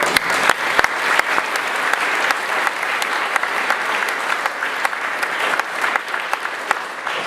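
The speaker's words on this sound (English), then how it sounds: "So, a round of applause for her." Sustained audience applause at a symposium, dense and steady clapping throughout with some individual sharp claps standing out, fairly loud.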